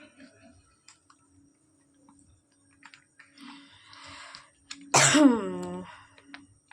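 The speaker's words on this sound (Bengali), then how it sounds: "আমার কাশির নিস্তার নেই" One sharp, harsh cough bursts out loudly in an otherwise quiet room, with faint clicks and taps scattered before and after.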